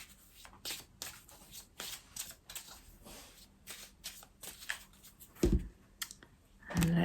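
A deck of oracle cards is shuffled by hand, rapid dry riffling bursts and soft flicks repeating for several seconds, close and quiet.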